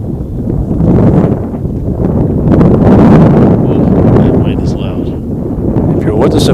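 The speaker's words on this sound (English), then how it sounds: "That wind is loud." Strong wind buffets an outdoor microphone at a high school baseball game, a loud continuous rumbling roar throughout, with faint voices briefly audible beneath it.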